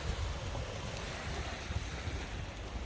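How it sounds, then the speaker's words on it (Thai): Sea waves and wind at Hat Chao Samran beach in Phetchaburi, Thailand: a continuous wash of surf with gusty wind buffeting the microphone, no voices. "ลมเย็นเชียวค่ะมานั่งชมทะเล ลมเย็นมากเลย"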